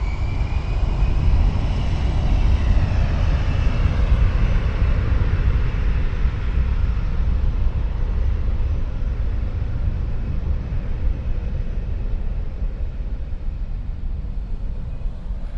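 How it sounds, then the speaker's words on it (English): A WestJet Boeing 737 MAX 8 airliner at Toronto airport gives off a steady, loud jet engine roar that holds evenly throughout with no voices over it. "We have a Boeing 737 MAX 8 WestJet going to Liberia."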